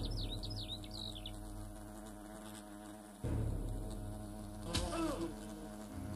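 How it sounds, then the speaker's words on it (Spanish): Wasp buzzing in the video game Fable Anniversary, a continuous droning whine that holds steady, then swells louder partway through over the game's background music. "No, no se anda con broma la avispa esta."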